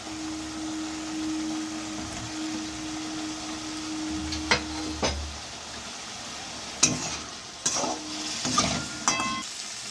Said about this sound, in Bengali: আলুগুলোকে খুব ভালো করে কষিয়ে নিয়েছি মশলার সঙ্গে